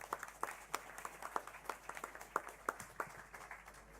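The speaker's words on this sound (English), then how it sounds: "Get a round of applause for Brandon Selleck," Sparse applause from a small audience at an election debate event, with scattered individual claps rising and fading over about four seconds, fairly quiet and uneven rather than a full ovation.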